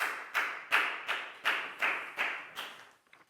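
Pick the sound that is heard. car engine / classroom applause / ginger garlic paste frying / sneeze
classroom applause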